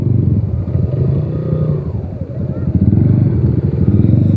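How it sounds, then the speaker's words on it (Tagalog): A Honda 400cc motorcycle engine revs loudly and close, a rough pulsing low rumble that dips briefly midway before climbing again, with other bikes idling nearby. "Honda 400cc."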